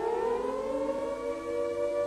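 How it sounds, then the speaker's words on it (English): A World War II air raid siren wails steadily, its rising tone drawn out and sustained in the distance. "the sirens started to wail"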